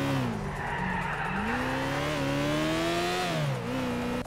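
A Bullet GT sports car in GTA IV drives hard, the engine note rising and falling as it revs through gear changes, with tires squealing and skidding throughout, loud and close.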